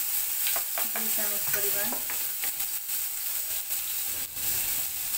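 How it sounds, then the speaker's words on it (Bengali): Fish frying with onion paste in a hot pan, a steady close sizzle with a spoon scraping and stirring through it, and brief speech over the cooking. "মাছটা ভুনা করে নেব"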